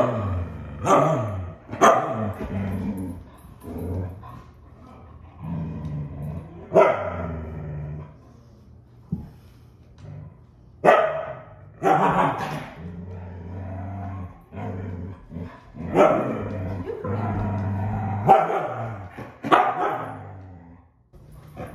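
A dog barks and growls aggressively, giving loud, close bursts of barking separated by stretches of low, rumbling snarls that go on for about twenty seconds.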